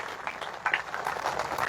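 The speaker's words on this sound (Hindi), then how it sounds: "एक बार जोरदार तालियां बजाएं, नमन वंदन करें अपने पुरखों को।" A crowd at a Ranwa family clan gathering applauds to honor ancestors, a brief, moderately loud patter of scattered clapping with a few sharper bursts, heard without speech.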